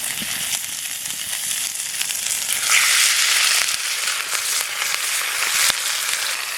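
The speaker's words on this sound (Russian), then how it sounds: "Сковорода уже нагрета хорошо. И отправляю туда жариться мяско." Meat sizzles in a well-heated frying pan at a campsite, a steady close crackling hiss that swells louder for a moment partway through, with no talking over it.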